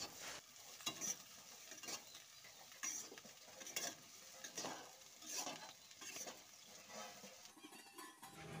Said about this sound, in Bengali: দিয়ে খুব ভালো করে খুন্তিটা দিয়ে আবারও নাড়াচাড়া করে দেবো